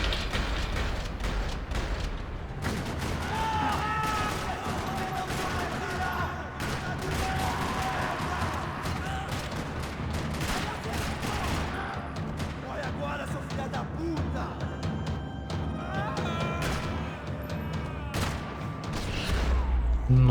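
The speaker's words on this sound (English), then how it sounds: "Another parking lot rattling with gunfire." Sustained gunfire fills a parking lot shootout in the video game Max Payne 3, dense and continuous for about twenty seconds with bursts, booms and game voices mixed in.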